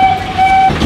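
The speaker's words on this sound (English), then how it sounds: "I like how I'm on a train as well" Train ride at Disney's Animal Kingdom, a loud steady rumble of the moving rail car with a thin tonal squeal or whistle riding over it, close and continuous.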